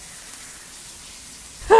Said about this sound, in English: Showering.